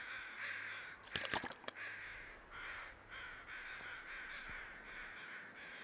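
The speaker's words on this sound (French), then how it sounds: "Est-ce que j'entends encore des corbeaux?" Crows caw in a snowy wilderness in the survival game The Long Dark, a quick burst of several loud caws near the start followed by fainter calls over a steady wind-like background.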